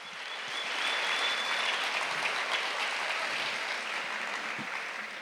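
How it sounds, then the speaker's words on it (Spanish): A church congregation applauds, a steady wash of many hands clapping that swells and holds at moderate loudness before slowly easing off. "denle otro aplauso"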